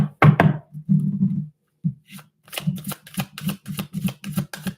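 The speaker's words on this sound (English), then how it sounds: "We'll shuffle 3 times, okay?" A deck of cards is shuffled, first a riffle and a soft rustle, then a quick run of crisp, rhythmic flicks.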